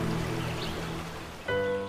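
A roaring magical waterfall in a cartoon: steady, close rushing water noise fills the scene, with a musical tone swelling in near the end.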